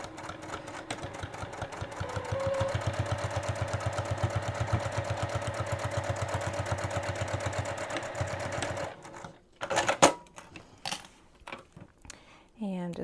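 A sewing machine runs a 3/8 inch seam on a boxy bag, a steady rapid stitching hum for several seconds that stops abruptly, followed by a few sharp clicks and rustles as the back stitch and thread handling finish; heard close, no talking.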